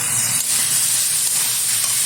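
Chopped tomatoes hit hot oil already holding ground spice paste of cumin, ginger and chilli for a fish curry, producing a loud, steady close-up sizzle and hiss with no talking.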